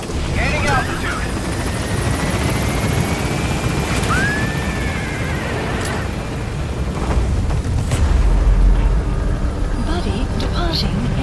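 A helicopter gains altitude at a landing zone in Metal Gear Solid V: The Phantom Pain, its loud continuous rotor roar and engine rumble filling the scene while radio voices speak over it.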